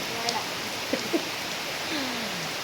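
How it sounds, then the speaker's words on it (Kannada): Heavy rain pours steadily in a continuous close wash of hiss, with a few faint voices and sounds nearby. "ಜೋರು ಬರ್ತಾ ಉಂಟು ಮಳೆ"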